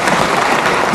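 A burst of loud, dense audience applause at a theme-park fans' awards event, continuous and close for about a second.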